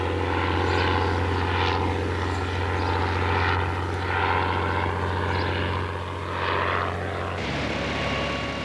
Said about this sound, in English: Fast, maneuverable, and heavily armed, the Bristol fighter embodied all the technical progress of 4 years of war.